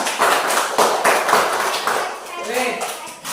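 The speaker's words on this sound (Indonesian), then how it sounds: "tepuk tangan dulu untuk SD 5" Primary schoolchildren of class SD 5 clap their hands together in a classroom, a few bursts of quick, fairly close clapping mixed with children's voices and a brief tonal ping near the end.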